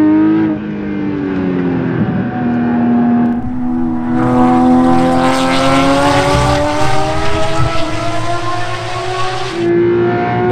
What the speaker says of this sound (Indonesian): Oh, ternyata GT3 melebar di tikungan terakhir dan langsung saja disalip oleh GT3 RS.